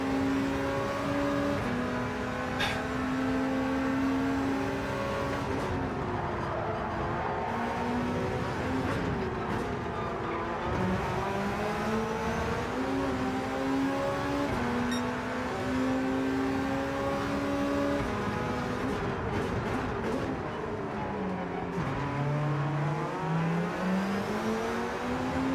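Racing car engine in Gran Turismo 7, steady loud revving with rising and falling pitch through gear changes, continuous throughout with no talk.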